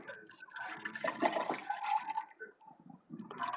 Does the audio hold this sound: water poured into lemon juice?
yes